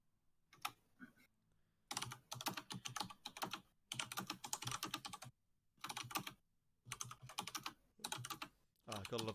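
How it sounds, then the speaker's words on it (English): Loud mechanical keyboard being typed on during a D&D livestream, fast clattering keystrokes in several dense bursts separated by short pauses, close to the microphone. "I gotta love the sound of a mechanical keyboard"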